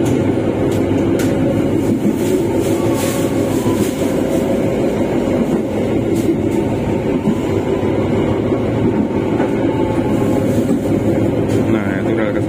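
Executive express passenger train on the northern Java line toward Semarang and Surabaya, heard from inside with a loud steady rumble and rattle of wheels on rails, continuous throughout.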